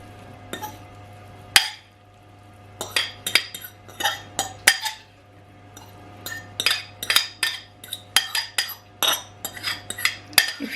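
Flaked salmon being mixed into a deviled egg filling with a utensil in a bowl, giving a steady run of close scraping clinks and taps against the dish, with no talking.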